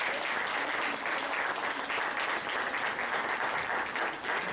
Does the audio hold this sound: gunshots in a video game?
no